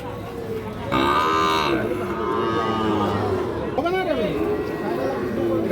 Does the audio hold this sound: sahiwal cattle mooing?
yes